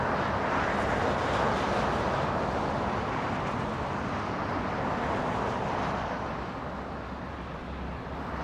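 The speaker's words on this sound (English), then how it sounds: "can we go to Spirit Airlines landing in the south" A Spirit Airlines jet landing at Los Angeles International Airport gives a broad, rushing engine roar that slowly fades as it passes, distant to mid-range and unaccompanied by voices.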